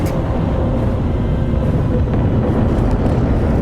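Ship engines in Warhammer 40,000: Space Marine 2 make a loud, steady droning roar that holds unbroken throughout, with no voices.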